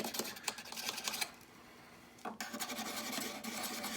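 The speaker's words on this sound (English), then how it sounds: "now I'll come in here and all I'm going to do now is clean up the inside, and I'm going to roll that burr all the way to the outside" A tool scrapes along the inside edge of a freshly ground hoof knife blade to roll the burr outward: short, dry rasping strokes, then a brief pause, then more strokes, close and soft.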